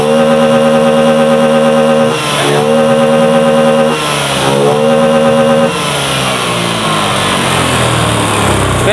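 A Honda Beat scooter that smokes and pushes oil out of its air filter revs its engine up and down several times, a loud, close buzzing whine that climbs and falls before settling into a rougher idle.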